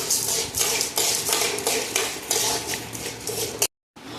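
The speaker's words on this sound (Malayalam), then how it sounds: "വെളിച്ചെണ്ണ ചൂടായി വരുമ്പോൾ അതിലേക്ക് കടലപ്പരിപ്പും ഉഴുന്നും കൂടെ ചേർത്ത് ഇത് മീഡിയം ഫ്ലെയിമിൽ വറുത്തെടുക്കുക." Chana dal and urad dal being roasted in coconut oil in a pan, with rhythmic spatula scraping and metallic clinks against the pan, close and clear, ending with a brief silence.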